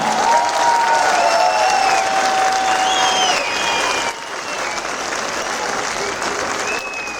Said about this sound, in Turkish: Kendinizle gurur duyun, kendinizi alkışlayın doyasıya.